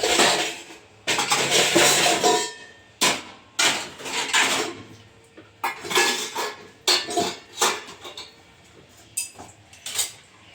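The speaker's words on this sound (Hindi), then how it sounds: "तो सारा बर्तन रख देते हैं किचन में, टोकरी में सरिया सरिया के रख देते हैं।" Washed metal utensils and pots clatter and clink as they are stacked into a kitchen basket, a busy run of loud close metallic knocks and rattles in bursts with short pauses.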